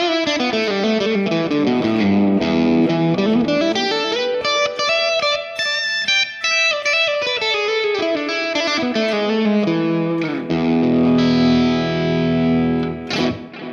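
An electric guitar on its humbucker pickup runs through the Amped Oracle amp plugin, playing a continuous heavily distorted, aggressive riff with ringing chords and sliding bass notes.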